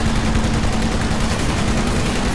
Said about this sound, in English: I got a big giant light machine gun.